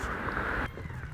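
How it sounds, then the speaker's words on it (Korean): A stray cat meows in one sustained, fairly loud call lasting most of a second, then cuts off, leaving quieter background noise. "고양이. 길고양이."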